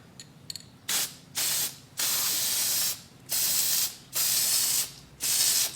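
Aerosol paint stripper sprays onto a stock motorcycle triple clamp in a series of six close, sharp hissing bursts, each about half a second to a second long, separated by brief pauses.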